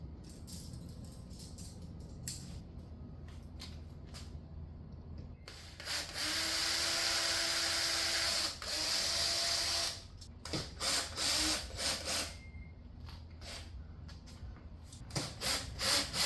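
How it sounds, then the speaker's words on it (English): Holes are drilled and screws driven to hang a light fixture in a home-built PVC paint booth, with a sustained whirring burst of a power tool, then shorter stop-start bursts over a steady background hum, no talking. "I drilled 2 small holes 36 inches apart, screwed a screw on each side"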